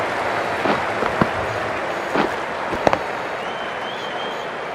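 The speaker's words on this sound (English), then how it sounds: "It's almost palpable, the excitement emanating from this crowd at the moment." A large stadium crowd at a Sri Lanka versus England World Cup ODI cricket match applauds and roars as a steady, far-off wash of noise. A few sharper claps and whistles stand out, and no clear voices are heard.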